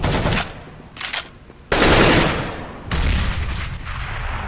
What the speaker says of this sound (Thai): โดนยิงตายอีกแล้วสไนเปอร์น้องหน้ต่าง